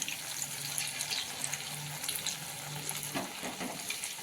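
Coriander vadi shallow-frying in a pan over a low flame, a soft, steady sizzle with light crackle running throughout, fairly quiet and close, with a few faint scraping touches near the end.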